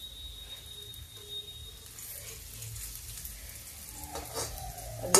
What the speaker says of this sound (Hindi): तो मेरी पकौड़ियां पक रही हैं धीमे धीमे